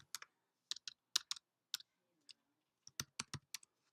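Typing a command on a computer keyboard: close, crisp key clicks in short bursts with brief pauses between them, in a quiet room.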